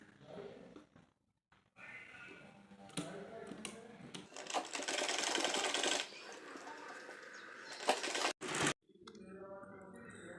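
A sewing machine stitches a Patiala salwar in quick whirring runs separated by short pauses, with a few clicks and handling sounds between bursts of stitching, close and fairly quiet.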